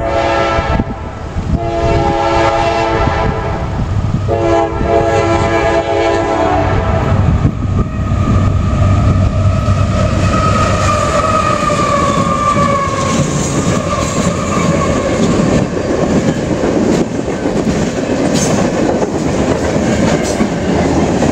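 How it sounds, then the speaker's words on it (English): A long CSX westbound freight train rumbles past close by, its horn blaring at the start over steady loud wheel clatter and rolling metallic rattling. "Another CSX westbound train"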